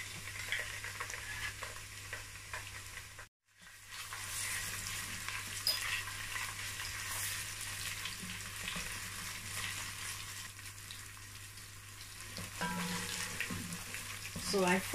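Tomato paste and onions fry in a pot for jollof rice, a soft continuous sizzle with occasional stirring, broken by a short silent gap early on, fairly faint.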